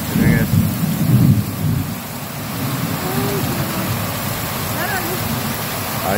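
Severe thunderstorm in Temple, Texas, with loud rumbling thunder rolling through the first seconds over steady heavy rain, which keeps pouring on after the rumble fades.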